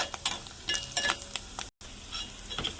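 Ginger frying in a pan for ginger rice gives a soft, continuous sizzle broken by close stirring scrapes and light clinks of a spoon on metal, with a brief dropout midway and no speech.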